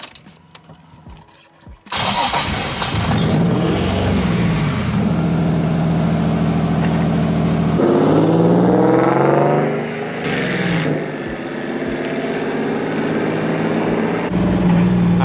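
Single-turbo HR-swapped Nissan S15 revving hard on a dyno pull, a loud sustained engine roar that climbs steadily through the rev range after a quieter start, dipping briefly before rising again near the end.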